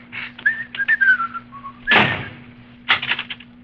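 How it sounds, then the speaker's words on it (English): A person whistles a short, wavering tune in brief phrases, followed by a loud thump like a door, then a few more clattering knocks. "He knows I abominate whistling in the laboratory."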